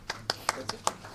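Scattered, sparse hand claps from a small audience in a hall at a National Voters' Day event, about five distinct claps spaced evenly over a second, with voices underneath.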